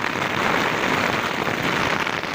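Heavy rain drums steadily on a tent at a campsite during a cycling trip, a dense, continuous patter that stays loud and even throughout, with no voices.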